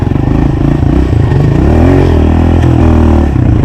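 Honda CRF 125 pit bike engine revving on a dirt track, loud and close, a continuous buzzing drone that rises and falls in pitch through the whole stretch.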